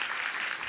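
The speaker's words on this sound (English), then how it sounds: "Give yourself a big round of applause." Audience applause at a live science summit session, a brief dense burst of many hands clapping, steady and fairly loud throughout.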